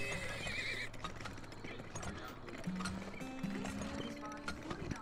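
Horses in the video game Turmoil whinny and neigh several times amid clip-clopping hooves and soft mechanical game clatter, fairly close and steady throughout, with voice-like sounds mixed in.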